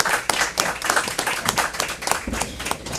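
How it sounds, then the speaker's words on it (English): An audience at an environmental law congress claps for a panel of speakers, a close, steady round of many hands with sharp individual claps standing out, no talking over it. "I would like to give a round of applause to our first three speakers."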